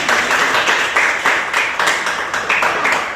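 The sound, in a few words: class applause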